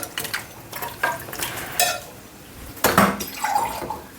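Water is added to Andhra chicken curry in a pot, with liquid splashing and stirring scrapes against the pot coming in several short, close bursts.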